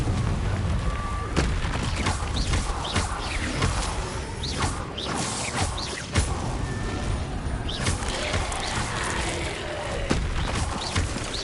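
Confringo fire spells blast repeatedly in Hogwarts Legacy, a run of sharp whooshing booms and crashes spaced every second or so over dense combat noise, with no talking heard.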